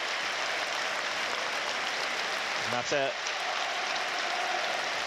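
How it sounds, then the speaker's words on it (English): Steady applause from a football stadium crowd at the Stadium of Light, a broad continuous wash of clapping at even loudness, with a commentator speaking briefly over it. "And a spontaneous round of applause on the 6th minute"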